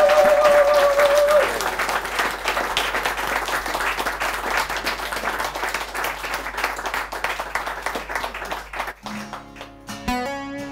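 Sustained, dense applause greets a band arriving at a talk-show stage, a voice briefly heard at the start. The clapping thins over about nine seconds before music with singing takes over.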